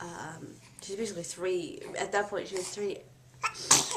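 A sneeze bursts out sharply near the end, following a woman's steady chatter about a baby's weight.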